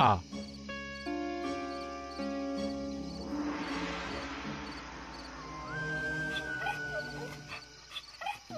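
A hungry mother dog whimpers and whines in drawn-out, tonal cries beside her puppies, with a person speaking nearby and some rustling movement.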